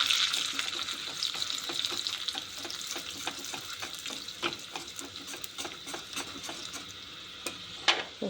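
Garlic sizzles and fries in a pan with red chili and asafoetida as a spoon stirs it, steady frying hiss with repeated scraping clicks of the stirring and no voices.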